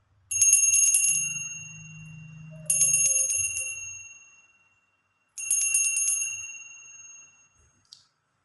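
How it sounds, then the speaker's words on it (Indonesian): A bright bell rings three times with long shimmering decays, spaced a couple of seconds apart, over a faint low hum. "lonceng berbunyi"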